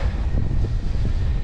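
Strong mountain wind on an e-mountain-bike climb from Yalta to Ai-Petri in Crimea buffets the microphone, a steady low roar with gusty rumbling that fills the whole moment.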